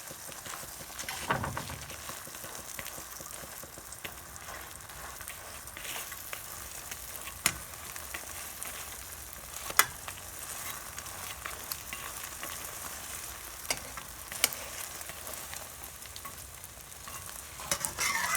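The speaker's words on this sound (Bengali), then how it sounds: "এবার আমি পরোটাটিকে ডিমের উপর বসিয়ে দিচ্ছি।" A paratha set over egg frying in a pan for a Kolkata-style egg roll gives a quiet, steady sizzle punctuated by occasional sharp clicks and taps.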